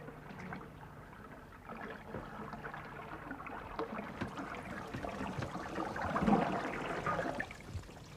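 Water wells up and gurgles out of an overflowing toilet after a flush, a steady rushing slosh that swells toward the end, close and with no talk.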